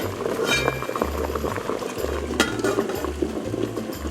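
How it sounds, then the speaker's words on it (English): Potatoes boil in a pot of water on the stove, a soft bubbling and simmering texture with a faint low pulsing hum beneath and a few light clinks, quiet and close with no talking. "So boiling potatoes here."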